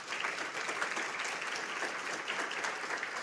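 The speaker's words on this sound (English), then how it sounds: "Please give these students another round of applause." Steady applause from a large crowd at a student recognition ceremony, sustained clapping throughout with no pauses, moderately loud and fairly close.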